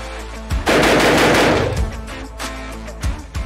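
A single loud, close 12-gauge shotgun blast with a long booming decay, heard outdoors at a shooting session, followed by fainter clicks and handling noises.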